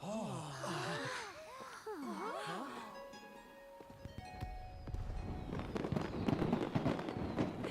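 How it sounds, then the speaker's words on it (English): Fireworks in the video game Genshin Impact. Whistling rockets rise and sweep first, then a dense run of crackling pops and bursts fills the scene, fairly close and building in intensity. "Alright, lots of fireworks."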